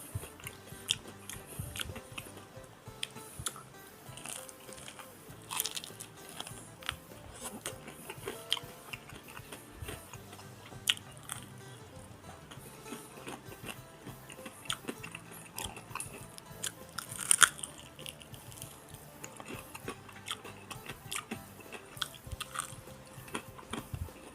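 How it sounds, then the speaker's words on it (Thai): Crispy batter-coated fried chicken being bitten and chewed up close, a steady run of crunchy bites and mastication with no talking. "กรอบกำลังพอดีครับ"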